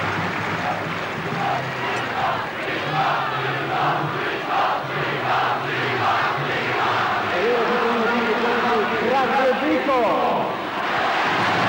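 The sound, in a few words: stadium crowd applauding football player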